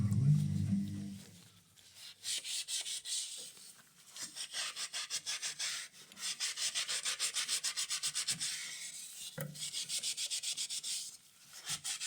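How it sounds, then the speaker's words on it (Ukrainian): A sponge scrubs limescale off a surface coated with WD-40, producing rhythmic, close rasping strokes in bursts separated by short pauses. "І починаємо терти губкою"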